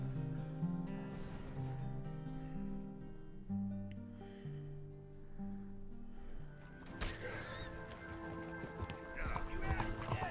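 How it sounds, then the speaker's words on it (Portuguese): Horse hooves clip-clopping at a steady walk through the city streets of Saint-Denis in Red Dead Redemption 2, clear and rhythmic over a low musical drone, with a brief whinny-like accent partway through. "Vamos dar uma volta aí com um cavalo por dentro da cidade"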